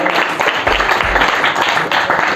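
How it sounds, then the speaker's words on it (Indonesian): Students at an Islamic boarding school talk applaud together in a dense, steady wash of clapping that fills the room for a couple of seconds, loud and close, with no clear speech over it. "Tepuk tangan untuk kalian."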